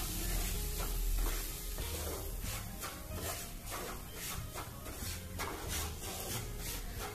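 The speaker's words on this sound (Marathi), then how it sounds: "या उरलेल्या तुपामध्ये आपल्याला रवा भाजून घ्यायचाय।" Semolina (rava) roasts in ghee in a pan over a low flame, giving a steady dry sizzle and a loud, continuous scraping from stirring and rubbing.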